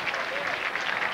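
Spectators at the 1999 IHSA boys swimming and diving state finals applaud a final dive, a brief steady burst of clapping from a crowd in an indoor pool arena.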